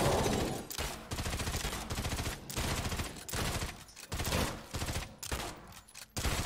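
Sustained automatic gunfire in State of Decay, a dense rapid barrage of shots in bursts with brief pauses, loud and close throughout.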